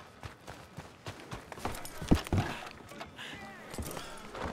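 Horse hooves clip-clop on a town street in Red Dead Redemption II, an irregular run of thuds under game ambience, with one louder close hit midway.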